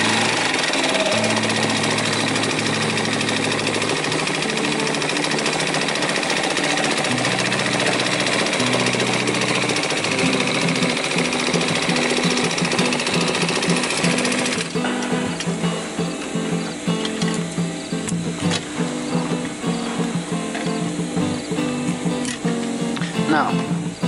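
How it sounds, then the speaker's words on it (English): A sewing machine runs a normal stitch along a seam of a DIY rollup bag, a steady continuous mechanical whir that carries on throughout, changing character partway, with a voice speaking over it. "now let's run again another stitch with the normal"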